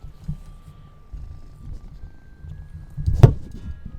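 House cat purring close to the microphone, a soft low rhythmic rumble that swells into a brief louder burst near the end, with no talking.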